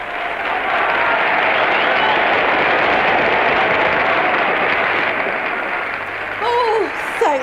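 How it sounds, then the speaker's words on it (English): Sustained audience applause fills a radio play, a dense, steady wash of clapping that holds for several seconds before a brief voice cuts in near the end. "Now if they'd only applaud like that all time."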